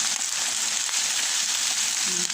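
Garlic frying in a pan for a salmon lemon-garlic sauce, giving a steady, close bright sizzle with fine crackles throughout.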